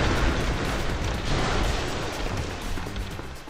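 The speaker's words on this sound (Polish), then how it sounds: "jeżeli wybuchną wszystkie bomby" Bombs detonating across a city in the destruction game City Smash, a continuous loud rumbling roar of overlapping blasts with no pauses.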